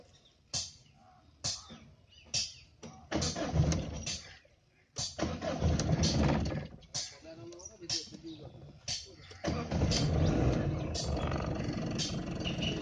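A Tata Indigo eCS being started repeatedly with its self-starter: several short cranking bursts in a row, then the engine catches and settles into a steady idle, recorded close with a faint voice now and then.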